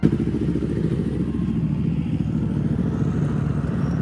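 A motorcycle engine drones steadily at cruising speed on the road from Bansari toward Dieng, close and loud, with rumbling road noise and no voices.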